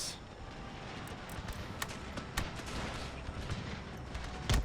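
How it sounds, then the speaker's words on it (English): Massed musket volleys crackle across a battlefield in Empire: Total War, Swedish Empire line infantry firing in scattered sharp bursts over a steady din of distant combat, with a loud report near the end. "the enlisted men are starting to fire"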